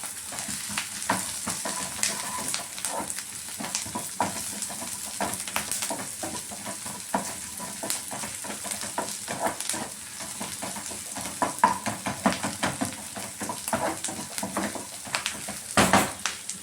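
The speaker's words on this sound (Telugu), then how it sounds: "చూడండి, ఆనియన్స్ అయితే వేగిపోయినాయి." Onions frying in a pan while chana dal fry is being cooked, giving a continuous bright sizzle broken by frequent scraping stirs, close and steady with no talk.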